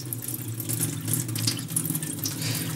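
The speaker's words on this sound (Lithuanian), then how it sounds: "Išpilam tą vandenį. Jis mums nereikalingas." Lentil soaking water poured out into a sink, a steady continuous splashing stream running the whole time, close and moderately loud, with a faint low hum underneath.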